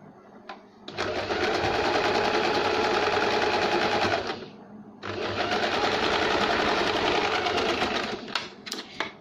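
A sewing machine stitches blouse lining in two sustained loud runs, a dense close whirring buzz separated by a short stop, with small handling clicks at the end.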